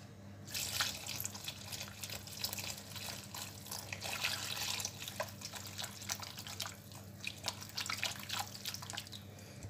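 Hands being washed under a running kitchen tap while making dough for a breakfast bread, a steady close splashing stream with irregular drips and rinsing swishes, with no voices.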